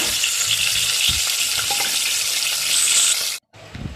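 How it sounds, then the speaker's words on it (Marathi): Onion paste frying in hot oil in a pan, a loud, steady close sizzle with occasional stirring, cutting out briefly near the end. "टाकणार आहे मी आता कांद्याचा पेस्ट चांगलं तेलामध्ये म्हणजे शिजू द्यायचं"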